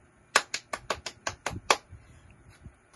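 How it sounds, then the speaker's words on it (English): A class of elementary pupils doing a barangay clap, a quick run of about eight sharp, evenly spaced claps that then trails off into quiet. "give yourself a barangay clap"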